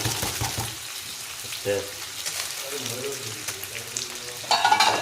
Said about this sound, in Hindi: इधर में फर्स्ट टाइम आलू फ्राई करने के लिए हम दे रहा हूँ।